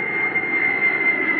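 A firefighting supertanker airplane's jet engine whines steadily with a sharp high tone over a broad roar, loud and close throughout.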